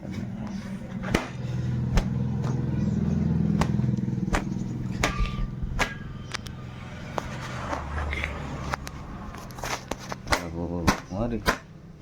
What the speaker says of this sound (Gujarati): આ તો આપણું બાઈક છે.